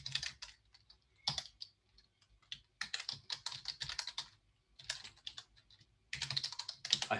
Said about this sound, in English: I'm going to now type my password